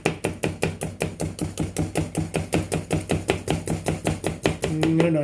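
Onion being chopped with a knife for chicken curry, a fast steady run of about two dozen crisp knife strikes on a board, close and loud with no talk.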